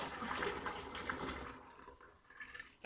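Hot-process soap batter for acne soap poured from one bucket into a second bucket, a steady wet rushing pour that thins and tapers off near the end.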